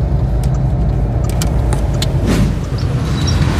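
A car driving slowly while searching for a parking spot near a mall, its engine and road noise a steady close rumble with small clicks and rattles, no talking.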